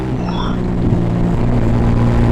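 A motorcycle pulls away from a standstill on a road test ride, its engine note climbing steadily as it accelerates, the droning motor loud and close throughout with no talking.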